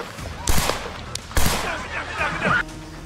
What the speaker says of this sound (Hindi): 20 साल के हमलावर थॉमस मैथ्यू क्रुक्स ने 400 फीट की दूरी से 8 राउंड गोलियां फायर की थी।